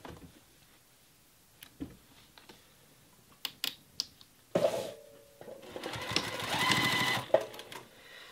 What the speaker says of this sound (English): I'm going to head over to the sewing machine so you can get a close-up shot of exactly how I stitch this down